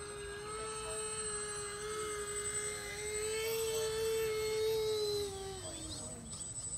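Motors of an RC model V-22 Osprey during a vertical landing produce a steady, faint high whine with a droning hum, holding level before tapering off near the end.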